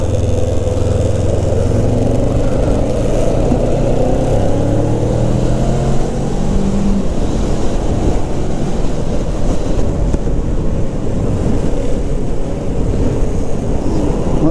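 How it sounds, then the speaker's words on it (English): Road traffic streams past with engine drone and shifting revs from cars and a motorcycle, loud and continuous, mixed with wind buffeting the microphone. "Much more traffic than I would like to see."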